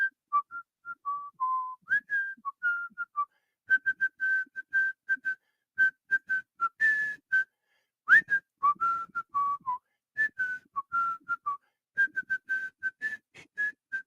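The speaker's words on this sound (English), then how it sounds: "that means I get to whistle us out" A person whistles a bright, lively tune alone, in quick rhythmic phrases with short pauses, close and clear.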